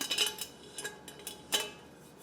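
Steel pot handle from an Ozark Trail camping cook kit rattles and clinks in a few short metallic bursts, close and crisp, with brief pauses between the clatters.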